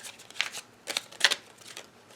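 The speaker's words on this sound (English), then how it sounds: "These cards just don't shuffle the other way well." A deck of playing cards is riffle-shuffled by hand, giving several quick clustered bursts of fluttering, ticking card snaps at close range, with quieter rustling between them and no talk.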